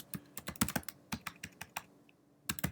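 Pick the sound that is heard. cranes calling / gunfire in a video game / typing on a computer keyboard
typing on a computer keyboard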